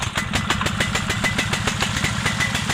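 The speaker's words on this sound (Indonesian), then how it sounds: "Kita menggunakan mesin sederhana untuk penyiraman. Caranya" A simple hand-cranked engine powering a farm watering machine runs close and loud with a rapid, even chugging rhythm throughout.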